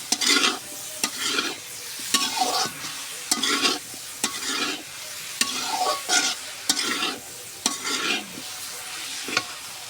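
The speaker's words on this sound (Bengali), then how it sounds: "আদা রসুনটা সবজির সাথে সুন্দর করে ভাজে নিব" Ginger-garlic paste frying with vegetables in a pan, stirred in a steady rhythm of about a dozen scraping strokes over a continuous loud sizzle, close and without talk.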